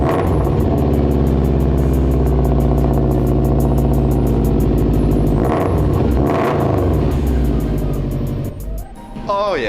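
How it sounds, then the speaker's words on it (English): A Subaru WRX engine idles loudly and steadily on a cold start with a rough, throbbing rumble, a brief rev rising partway through, close up. "cold start for the Subi fam."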